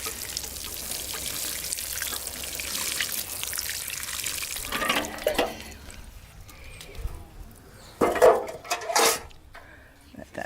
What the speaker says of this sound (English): Going to give it a water, and then I'm going to cover it with ½ an inch of soil.